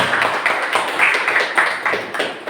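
A classroom group claps together, a quick run of steady, fairly close hand claps repeating evenly for a couple of seconds.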